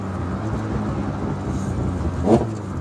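A Skoda S100 fitted with a 16V twin-cam engine revs steadily and close by, holding a continuous drone before a brief louder rise near the end.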